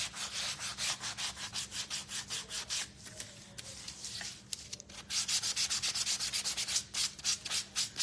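Sandpaper is rubbed by hand over a painted wooden spindle birdhouse, close rhythmic rasping strokes in quick succession with a short pause midway before they resume.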